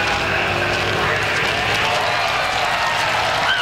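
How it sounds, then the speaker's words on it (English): A drag racing crowd at an NHRA event in Memphis cheers and applauds, a loud, continuous roar of clapping and voices spread across the stands, with no clear speech over it. "Listen to the crowd."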